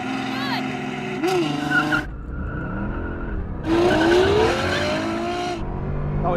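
Supercars drag racing side by side, a Mercedes SLR McLaren, Ferrari GTC4 and Aston Martin DBS, loudly launching and accelerating with rising engine notes and gear changes, heard from inside one car under the running engine.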